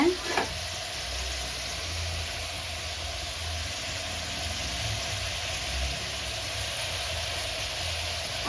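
Pumpkin sambar ingredients sautéing in a pan over a low flame, a steady close sizzle and fry with light stirring throughout, one brief knock at the start.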